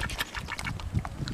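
Ducks give a few short, raspy quacks on an outdoor hiking trail, mixed with low rustling and handling noise, moderately close and fairly quiet.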